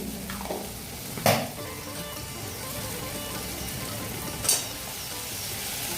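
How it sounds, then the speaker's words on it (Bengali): A spice masala of ginger paste, turmeric and coriander powder fries in oil with a steady close sizzle, broken by two brief clatters of a spoon against the pan. "এই মশলাটা কষানো কমপ্লিট"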